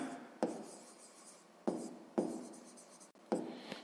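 Pen or pencil writing by hand on paper while working a sixth-grade maths exercise, close and soft: scratchy strokes in short bursts separated by brief pauses, with no voices.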